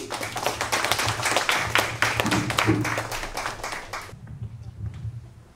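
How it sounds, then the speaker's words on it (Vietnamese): Applause from a crowd, steady clapping for about four seconds that then fades into quieter room noise with a low hum. "xin mời quý vị một tràng pháo tay chào đón"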